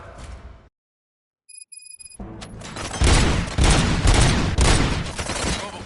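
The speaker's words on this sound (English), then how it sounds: "Gunshots? What's going on?" Gunfire in the RoboCop video game: after a moment of silence and a few bright chiming tones, a loud, rapid, continuous volley of shots erupts and keeps pounding to the end.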